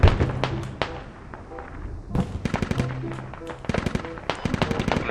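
Video game gunfire rings out as rapid bursts and single sharp cracks at varying distances, dense bursts clustering in the second half, with faint voices in the background.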